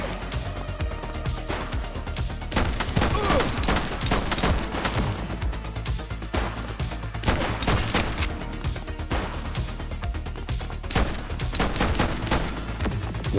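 A dense, loud fusillade of gunfire in a police video game, shots rattling almost without pause across the whole stretch with a few heavier bursts standing out, no talking.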